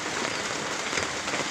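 A downpour of heavy rain makes a constant, loud, broadband hiss of drops hitting surfaces nearby, with no break and no talking.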